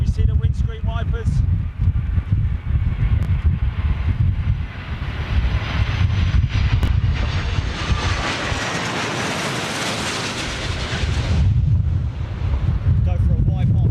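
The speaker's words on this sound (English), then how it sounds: "A330 looks like Virgin Atlantic, folks. She'll be Trent 7 power." A Virgin Atlantic Airbus A330 with Rolls-Royce Trent 700 engines coming in to land, a rising hiss and roar swelling in the middle and fading, heard through wind buffeting on the microphone with someone talking over the start and end.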